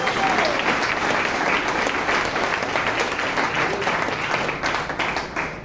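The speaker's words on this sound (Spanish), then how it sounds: "Denle un aplauso bien fuerte a Jesús" A church congregation applauds loudly and continuously, a dense, sustained wall of clapping from a crowd with faint voices underneath.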